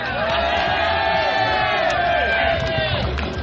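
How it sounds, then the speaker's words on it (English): A radio-show studio crowd cheers and whoops loudly, a dense continuous roar of many voices shouting at once, sustained throughout before easing at the end. "Well, let's applaud."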